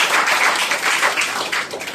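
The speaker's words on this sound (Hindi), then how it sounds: "हम चाहेंगे उनके लिए जोरदार ताली होना चाहिए।" An audience at an indoor venue program claps in a dense, continuous burst of applause. The sound is loud and sustained and holds steady for about two seconds with no voices over it.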